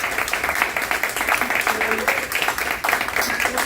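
An audience in a lecture hall claps steadily for the president of a criminal law association at a course's inaugural session, a dense, continuous round of applause filling the room with a voice faintly underneath.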